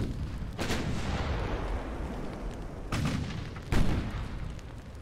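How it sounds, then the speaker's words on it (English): Heavy naval gunfire and shell hits in a Bismarck-versus-fleet battle in Ultimate Admiral: Dreadnoughts, a loud rumbling barrage with three sharp booms rising out of the continuous roar, no voices. "Oh, there are some big hits."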